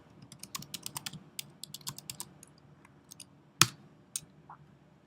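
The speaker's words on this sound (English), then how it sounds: "you can type into the chat." Keys clatter on a computer keyboard while someone types into a chat panel, a quick run of light, close clicks that slows toward the end, with one louder click partway through and no talking.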